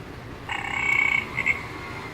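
A recorded frog croak from a touch-activated sound book sounds as a short, buzzy burst, then a brief second chirp, set against a quiet room hiss with no speech.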